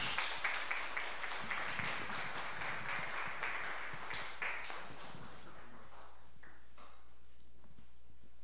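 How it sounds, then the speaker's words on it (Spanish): A conference audience claps and applauds steadily for a speaker, the sound gradually thinning out and dying away toward the end. "Por favor, un aplauso al doctor."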